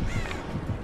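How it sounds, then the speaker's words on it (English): Crow caws in a video game played with friends, two short harsh calls close together over a steady background hum, fairly loud and without talk. "I heard a crow."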